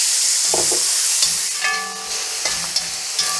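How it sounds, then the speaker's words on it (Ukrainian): Meat frying in hot oil in a pan while being stirred, a steady sizzle broken by scraping stir strokes, close and alone without talk. "І ось так перемішуємо і обсмажуємо до рум'яної такої скоринки. Весь час помішується."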